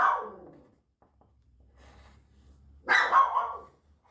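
A dog barking indoors: one bark at the start, a quiet stretch, then a louder burst of two or three close barks, with no talk over it.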